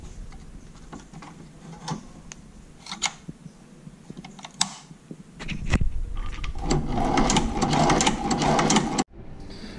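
A Chinese shoe patcher sewing machine gives scattered clicks and knocks at first, then runs in a rapid busy clatter for a few seconds before stopping abruptly, close and with no talk.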